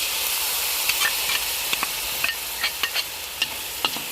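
Pork stir-fries in a wok with pounded homemade shrimp paste sauce, shallots and garlic, a steady bright sizzle under repeated sharp spatula scrapes and taps, close by with no talking.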